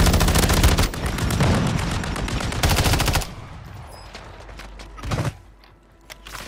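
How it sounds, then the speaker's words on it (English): Sustained gunfire in Modern Warfare 3, a dense automatic burst filling the first three seconds, then a quieter stretch broken by another loud shot near the five-second mark, including sniper rifle fire in the fight. "You're just being sniped."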